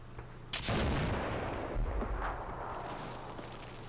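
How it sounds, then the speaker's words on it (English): Tank cannon and gunfire from a Russian tank shooting up vehicles in an open field in Combat Mission: Black Sea, a sharp loud blast near the start followed by a rolling boom and lingering rumble, with no talk. "this tank gets out here and then proceeds to shoot up every vehicle still in this area"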